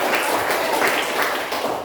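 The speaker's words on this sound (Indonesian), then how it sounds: "Ya, tepuk tangan semuanya" A classroom group claps together after a lesson, a steady dense patter of many hands filling the short stretch without talk.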